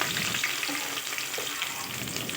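Finely chopped onions and green chillies fry in hot ghee and oil for bagara rice, giving a continuous bright sizzle and crackle close by with no talk.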